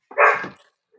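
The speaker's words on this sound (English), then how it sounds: "Oh, she's barking at the neighbors." A single sharp bark from a German Shepherd close by, barking at the neighbors, short and loud, then silence.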